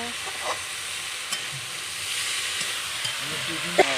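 Chickpeas stirred and fried in a pan over a wood-fired clay stove, a steady close sizzle and hiss with scraping stir strokes breaking through at intervals.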